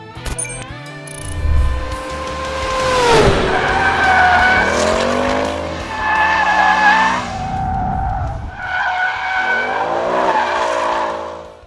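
A 2022 Ford Mustang Mach 1 is driven hard on a race circuit, its engine loud and close as it revs up and down through the gears, with tires squealing through the corners and no talk.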